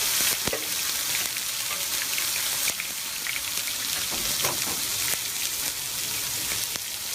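Burger, bacon and asparagus fry on a griddle, giving a steady close sizzle with crackling pops throughout, occasional sharper spits and no talking.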